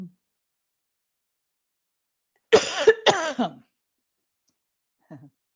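A short burst of two or three harsh coughs, close and distinct, between long stretches of silence, with a faint breathy sound afterward.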